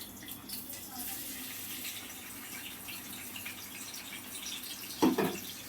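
Round-cut onion and one green chilli frying in hot oil give off a steady, close sizzling hiss that runs throughout, with a short, louder clatter near the end.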